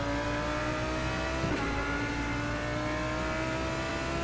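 A GT3 race car engine in the rFactor 2 racing game drones steadily at high revs, loud and close, with a brief sharper burst midway and no talk.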